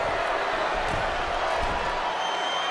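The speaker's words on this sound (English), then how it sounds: "you hear this capacity crowd following you on that journey." A capacity arena crowd roars in the WWE 2K22 wrestling video game, a dense, steady wash of cheering with a few thuds from the ring and commentary over it.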